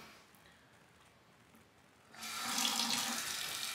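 Tap water starts running partway through onto a freshly etched printed circuit board being rinsed, a quiet room giving way to a steady splashing hiss at close range.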